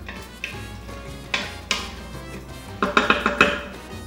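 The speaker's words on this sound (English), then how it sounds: "Let's give that a little stir around." A spoon stirs pork marinade of oregano, orange juice and lemon juice in a metal pot, clinking and scraping against the sides in scattered knocks, with a quick flurry of clatters near the end.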